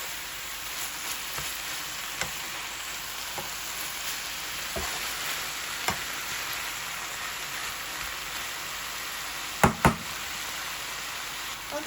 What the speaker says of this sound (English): we're just going to keep stirring so that the shrimps can be fully cooked